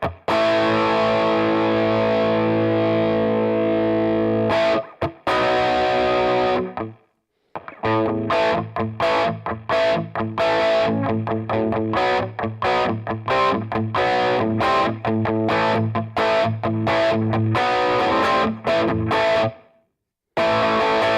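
An electric guitar runs through an X-Drive distortion pedal on its yellow 1 setting, giving a gritty, biting overdriven tone: sustained chords, then choppy rhythmic strumming with brief gaps, close and loud, no talking.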